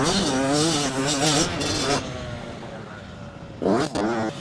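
A dirt bike engine revving up and down on the run-in to a jump, its wavering pitch loud and near, cutting out before returning in a short second burst.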